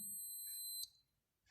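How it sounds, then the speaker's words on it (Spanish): A multimeter's continuity test gives a steady high electronic beep that holds for under a second, then cuts off abruptly, leaving near silence. "genera en este caso un pitido y que nos alerta de que hay continuidad entre dos puntos"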